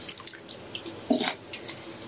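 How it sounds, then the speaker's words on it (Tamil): Water, about two litres, is poured into a cooking pot for a homemade weight-loss soup: a faint, brief splashing trickle that swells for a moment midway, quiet and with no voices. "சூப்புனால தண்ணி நல்லா 2 லிட்டர் ஊற்றிக்கலாம்."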